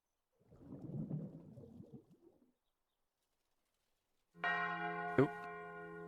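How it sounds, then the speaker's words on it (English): Summoning bells in a navy-cadet roleplay video game ring out in a sustained, resonant, bright tone after a brief rumble and quiet gap, with one sharp struck accent during the ringing. "The summoning bells are not a suggestion."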